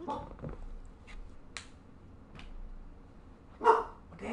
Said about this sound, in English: Hey, stop barking.